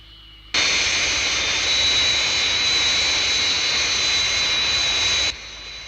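Aircraft engine in flight, an abrupt loud steady jet-like roar with a high whine that holds evenly for about five seconds and then cuts back to a quieter hum.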